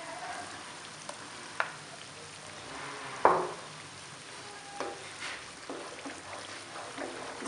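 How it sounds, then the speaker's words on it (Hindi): Ground potatoes and chickpeas are fried in masala in a pan, giving a steady low sizzle with occasional stirring scrapes and one sharper clatter near the middle, and no voices. "इसको डाल के हमने अच्छी तरह भून लेना है।"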